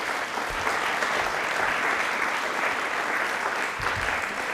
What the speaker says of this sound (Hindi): एक बार तालियां इस पहल के लिए भी जोरदार वाली होनी चाहिए।